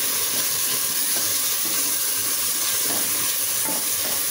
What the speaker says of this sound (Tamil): இப்ப அடுத்து தக்காளி தயிர் எல்லாம் அந்த மசாலாவோட நல்லா வதக்கிக்கலாம்.